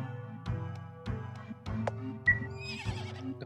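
A one-eyed, horse-like creature in a video game whinnies several times in a strained rhythm. Sharp neighs come about every half second over a steady low game drone, and a higher squeal follows near the end.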